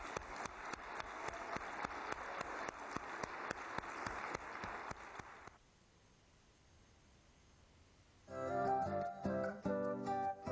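An audience applauds a youth group with dense, steady clapping for about five seconds. The applause fades into near silence before music starts up loudly.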